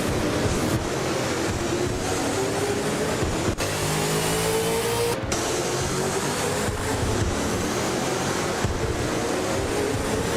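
V8 Supercars such as Nissan Altimas and Ford Falcons race at Oran Park. A loud, unbroken engine drone rises in pitch as the cars rev and accelerate, with a few sharp breaks as gears change and no voices.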